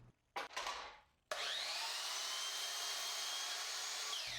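A power saw cuts glued-up wooden side panels for a camper van bed, starting with a brief scrape and whirr, then a sustained loud cutting whine that runs steadily to the end.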